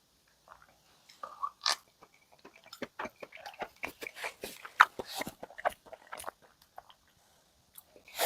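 Salmon sashimi with wasabi is chewed up close: a run of wet, clicky mouth sounds and small bites that come in uneven bursts for several seconds, with no speech.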